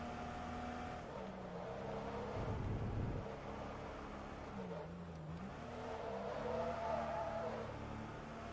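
Porsche race car engines from the Forza Motorsport 2 racing game, a Porsche 914/6 challenge, whine and rise and fall in pitch as cars accelerate and shift. Faint, steady, with a voice talking over the top.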